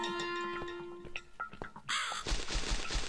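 A crow in The Cat Lady video game caws in sharp repeated calls over a faint hum, then gives way to a burst of loud crackling noise near the end.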